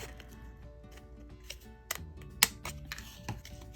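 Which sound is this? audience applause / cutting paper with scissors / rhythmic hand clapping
cutting paper with scissors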